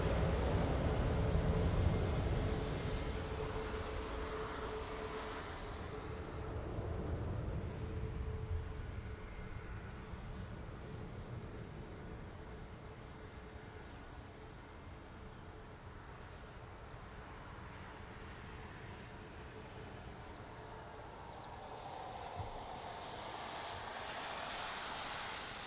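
An airliner landing at Lisbon Airport in rain and wind, a faint distant engine rumble and roar that swells and fades over a long, low steady wash.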